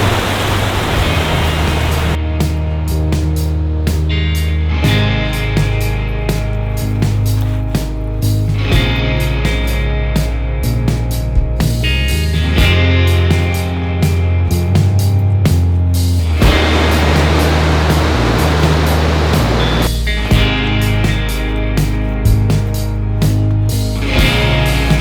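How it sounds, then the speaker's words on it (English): A mountain creek roars steadily beside a trail bridge in Colorado's Indian Peaks Wilderness, a loud, continuous broadband rush of whitewater with no voices, its churning surge swelling and easing slightly over the stretch. "You can hear the creek roaring."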